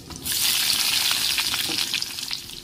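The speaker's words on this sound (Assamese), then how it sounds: "তাৰপিছত আকৌ এয়া কাটি লোৱা পিঁয়াজখিনি দি দিম" Chopped onions drop into hot oil with dried chilies and five-spice. A sudden loud sizzle bursts in after a brief quiet start, then settles into a steady crackling fry with no voices.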